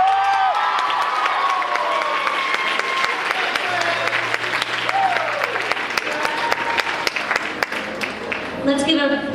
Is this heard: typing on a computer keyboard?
no